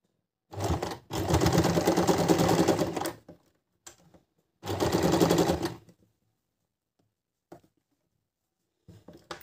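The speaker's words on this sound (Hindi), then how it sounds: "इसको फोल्ड कर दिया, अब इसको सिलना शुरू करते हैं" A sewing machine stitches folded fabric cut from an old stretchy legging, running in two sustained bursts of steady mechanical whirring separated by a pause, with a few faint clicks and handling noises afterward.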